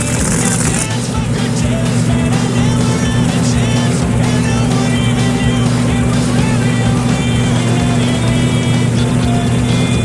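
Drag racing Pro Mod Camaros, one blower car and one turbo car, idling and rumbling loudly and steadily throughout, a dense continuous engine drone with some background crowd and talk mixed in.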